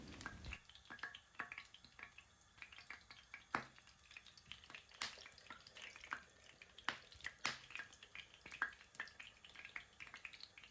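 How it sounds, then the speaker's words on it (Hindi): Chicken shami kebabs frying in a pan of oil, a steady soft sizzle with scattered crackles and sharp pops throughout, fairly quiet and close, with no talking. "अब फ्राई करते हैं अपने शामी कबाब को।"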